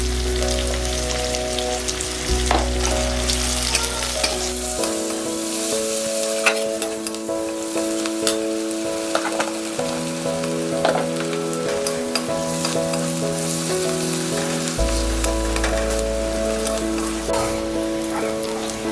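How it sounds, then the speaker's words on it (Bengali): Onions, garlic and green chillies sizzle and crackle in a hot pan for greens, a dense, steady frying hiss with occasional stirring scrapes and a low background hum; nobody speaks. "পেঁয়াজগুলো দেখুন, পেঁয়াজ রসুন লঙ্কা সব ভাজা ভাজা হয়ে গেছে।"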